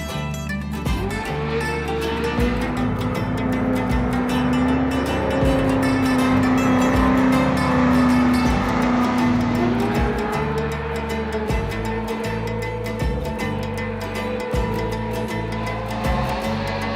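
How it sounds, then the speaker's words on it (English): Pro 2 race cars lapping the Paris Raceway circle track during tire testing, a steady loud engine roar with rising and falling revs as cars pass, continuous throughout with no talk. "today we're here with the Pro 2s doing some tire testing, kind of pushing the tires to the max"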